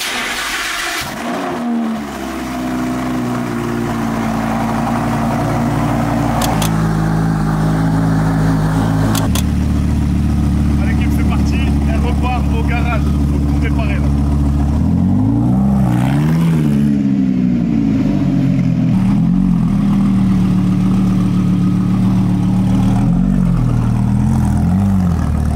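A supercar engine cranks and catches, then settles into a loud, deep idle that swells into several rising and falling revs, close by and continuous with no talking.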